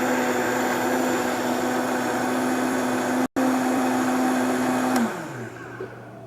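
A blender whirs at a steady high pitch while spinning nut milk sweetened with agave, cutting out briefly once, then slowing and winding down after about five seconds.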